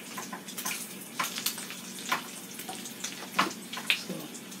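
Bacon crisping in a frying pan gives off a continuous hiss and crackle, with scattered sharper pops rising above the steady sizzle, heard up close with no one talking.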